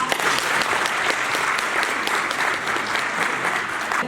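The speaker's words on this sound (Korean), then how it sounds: "박수로 환영합니다" A forum audience in Ansan applauds in welcome, a dense, even burst of many hands clapping continuously at steady loudness throughout.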